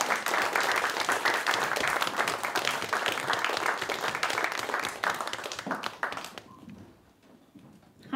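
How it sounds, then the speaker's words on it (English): Audience applause at a live event as speakers come up on stage, steady close clapping from a room crowd for about six seconds before fading into quiet. "Give them a big round of applause."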